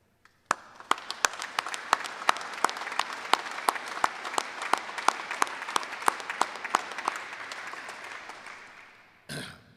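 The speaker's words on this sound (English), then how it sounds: "Please give a warm round of applause" Warm applause from the audience at a military welcome home ceremony for an assault helicopter battalion company, a sustained burst of many hands clapping with sharp close claps standing out, fading out near the end.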